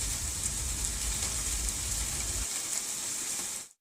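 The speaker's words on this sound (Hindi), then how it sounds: "दिल्ली के रोहिणी में भी तेज बारिश के साथ साथ ओले गिरे" Heavy rain mixed with hail falls in the Rohini area of Delhi, a dense, steady roar of downpour that holds for most of the clip, its low rumble dropping away partway through before the sound cuts off.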